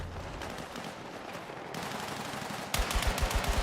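Gunfire in the video game Battlefield, rapid distant shots crackling under a busy battlefield din, then a sharper, louder run of close, punchy bursts near the end.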